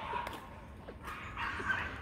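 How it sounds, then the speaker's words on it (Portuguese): Dogs at a small town square barking in the distance, a few faint, scattered yips and barks over quiet background noise. "tem um monte de cachorrinho lá na pracinha"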